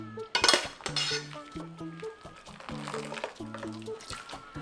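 Blanched perilla leaves scooped out into cold water, with close clinks and scrapes of a utensil against a metal pot and bowl plus light splashing, under a faint hum.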